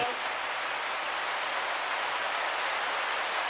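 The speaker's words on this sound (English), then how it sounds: "I'm really sorry about the rain" Steady broadband hiss of rain falling outdoors, continuous and even throughout, with no distinct drops standing out.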